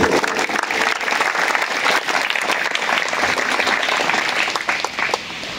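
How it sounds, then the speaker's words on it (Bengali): An audience at a school event gives the chief guest a loud, sustained round of applause that keeps a steady level before tapering off at the end. "ওনার জন্য আমরা একটা জোরে করতালি দিয়ে দেই"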